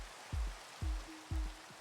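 Steady rain hisses through a Minecraft modpack world, with a few dull low thumps repeating every half second or so over the wash of the downpour.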